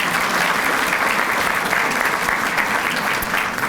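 A lecture audience at a museum exhibition talk applauds steadily, a dense, loud wash of clapping with no talk over it.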